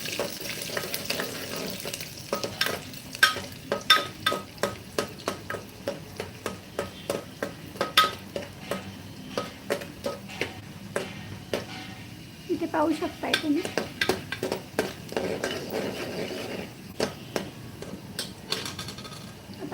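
Chopped garlic frying and being stirred in a pot for rajma masale bhaat, a soft sizzle under a rhythmic series of sharp spoon clacks against the metal pan, brief pauses between bursts.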